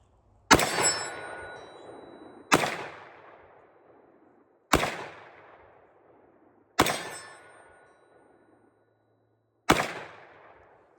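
A Kimber DS Warrior 10mm pistol fires 140 grain extreme penetrator rounds outdoors, five sharp, loud shots spaced a couple of seconds apart, each one ringing off in a decaying echo.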